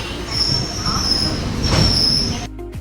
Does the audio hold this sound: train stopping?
yes